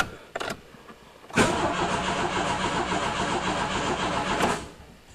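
A Turbo Aries engine that has sat for six years cranks on its first start attempt: a couple of quick clicks, then about three seconds of loud, even cranking that ends without the engine catching.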